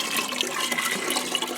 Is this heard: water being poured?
yes